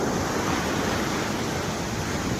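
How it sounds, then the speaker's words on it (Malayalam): Evening sea waves at Alappuzha beach make a constant, full hiss and roar. The sound stays loud and even throughout, with a touch of wind and no voices. "വൈകുന്നേരങ്ങളിൽ തിരയിങ്ങനെ വറ്റ വരുന്നില്ല, മാടി മാടി വിളിക്കുകയാണ്."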